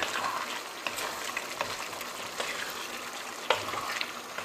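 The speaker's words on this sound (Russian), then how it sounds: "Тушим так до готовности морковки," Roe deer ragout with carrots simmers in a pan, giving a steady soft sizzle with faint bubbling and a few light clicks, like a utensil touching the pan. It is heard alone, with no talk.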